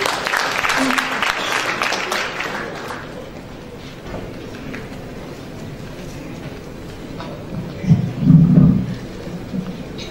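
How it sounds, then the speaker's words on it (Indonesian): Audience applause at a campus insurance seminar, a broad wash of clapping filling the room at the start and fading out over several seconds, followed by a louder rumbling burst near the end. "Mari kita berikan aplaus teman-teman"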